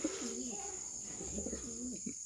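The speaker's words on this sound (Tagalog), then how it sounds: "Yan sila mga kalapatids." Pigeons coo softly nearby in a loft, a few rolling low calls repeating over a steady high background hum.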